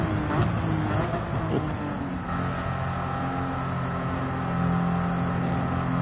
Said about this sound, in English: Got it flat out on nitrous on.